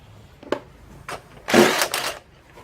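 An impact wrench zips engine mount bolts loose on a 2000 Ford Focus, giving a few short close rattling bursts, two quick taps and then a louder double buzz near the end.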